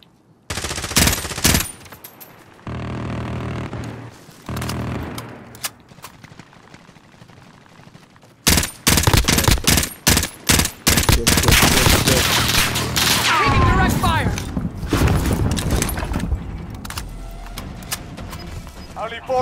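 Video game gunfire: bursts of automatic fire and single shots, loud and close, with gaps between volleys and a long sustained barrage in the second half, with voices talking over parts of it.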